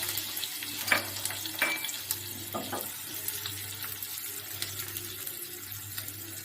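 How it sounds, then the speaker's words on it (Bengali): Ten or twelve chopped green chillies frying in hot oil flavored with fenugreek, a steady sizzle with a few sharp clinks and scrapes of a utensil, close by and moderately quiet. "এবার এই তেলের মধ্যে দিয়ে দিচ্ছি দশ বারোটা কুচানো কাঁচা লঙ্কা"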